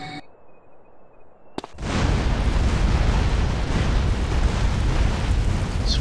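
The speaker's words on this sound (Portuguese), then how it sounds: "Explode todos os pedestres." An explosive seal jutsu detonates in a GTA San Andreas mod, a sharp crack followed by a loud, sustained roaring blast that rumbles on without letting up, with no talking over it.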